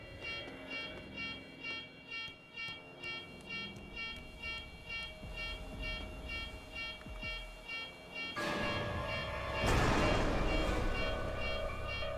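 A tram in the video game F.E.A.R. 2: Project Origin running with a pulsing mechanical hum and steady electrical whine, then a louder surge of rushing, grinding noise as it speeds up near the end.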